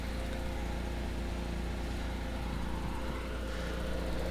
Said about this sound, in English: That's the sound of the injectors that you're hearing right now.